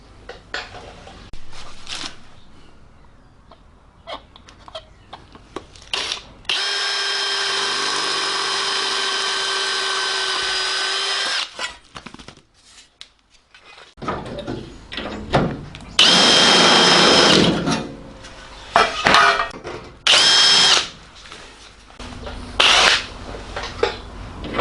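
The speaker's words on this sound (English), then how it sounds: "Drill a wee hole there" A power drill whirs in a long steady burst drilling a hole in a Morris Minor body panel, then several shorter bursts follow driving a screw, with clattering and handling noises between them.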